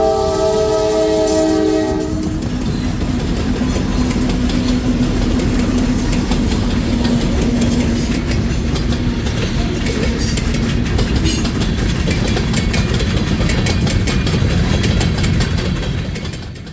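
Maryland Midland Railway freight train led by classic EMD locomotives sounds its horn in a loud multi-note blast, then rumbles past close by with a heavy diesel drone and steady rolling clatter of cars, fading slightly at the end.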